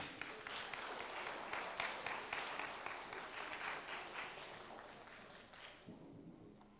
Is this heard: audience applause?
yes